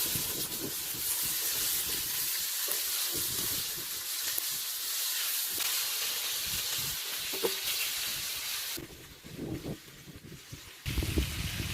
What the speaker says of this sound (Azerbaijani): toyuqları əlavə edirik və toyuqların da hər iki yüzünü qızardırıq